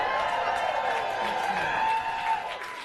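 An audience in a theater cheers and claps loudly and continuously, a steady wash of voices and applause that tapers slightly toward the end.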